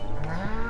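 A single short cow moo from Stardew Valley, a farming video game, set on a farm with six cows; the low, drawn-out bovine call plays alone, close and clear with no talking.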